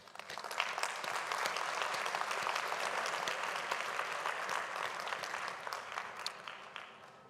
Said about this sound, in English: please join me in acknowledging their interventions in the usual way with a very warm round of